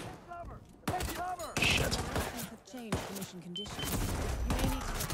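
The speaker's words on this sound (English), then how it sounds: "What's going on here is dudes are shooting at you." Gunfire from enemies in the video game Hitman, a rapid clatter of shots running through most of the stretch, mixed with game sounds while someone talks and swears over it.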